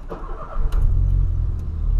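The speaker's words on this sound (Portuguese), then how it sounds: "Então vamos dar a partidona aqui no polo" A Volkswagen Polo sedan's engine cranks and catches, settling into a steady low idle rumble heard close from inside or beside the car.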